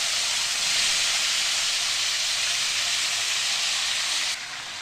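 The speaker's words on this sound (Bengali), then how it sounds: "এবার ফোড়নটা ভাজা হয়ে গেলে এর মধ্যে দিয়ে দেবো কেটে রাখা টমেটো" Chopped tomatoes hit hot mustard oil spiced with dried red chilli and five-spice for a tomato chutney, making a continuous broad hiss that holds steady and then softens in the final half second.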